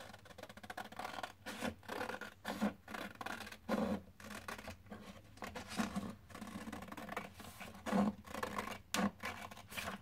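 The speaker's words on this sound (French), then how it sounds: "Donc après, vous prenez votre ciseau et vous coupez." Scissors snip through paper in a steady series of short crisp cuts, each a quick close rasp, repeated a dozen or so times without talk.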